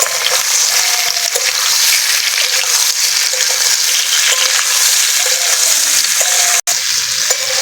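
Amla (Indian gooseberries) frying in hot oil, a loud, dense, continuous crackling sizzle close to the pan, with a brief break near the end.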